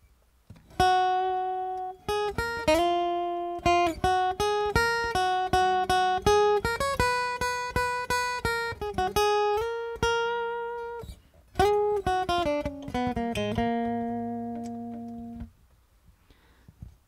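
Solo electric guitar plays the first half of a lead solo for a country-style song, with clean sustained single notes and bends in a phrased run, then a final held note fading out.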